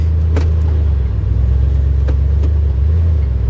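A 1971 Chevy C10 pickup engine idling with a steady deep rumble while shifted into four-wheel-drive high, with a few faint clicks and knocks of the shift mechanism over the constant loud drone.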